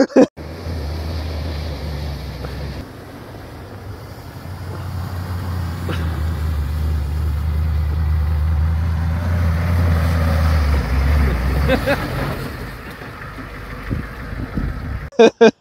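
A 1986 Ford F350 crew-cab truck drives through snow, its engine a steady, loud low rumble under wind-like rushing that swells and eases over several seconds, with sharp knocks at the start and end.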